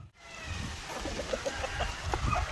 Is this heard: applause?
no